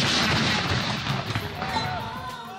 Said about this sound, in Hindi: वफाकी दारुल हुकूमत इस्लामाबाद में 31 तोपों की सलामी से दिन का आगाज हुआ